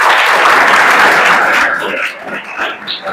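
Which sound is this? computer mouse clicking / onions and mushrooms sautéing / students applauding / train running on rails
students applauding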